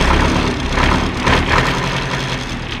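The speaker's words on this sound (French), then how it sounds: "C'est un tracteur de 1977 pour ceux qui veulent savoir." A 1976 Fendt 105 50-horsepower tractor's diesel engine starts and idles loudly and steadily nearby, a rough continuous rumble with a slightly pulsing rhythm.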